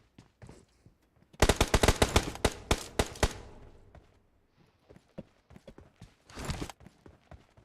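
Close, sharp bursts of rapid gunfire in PUBG Mobile: a long rattling volley, a pause filled with scattered footsteps and small clicks, then a second, shorter burst.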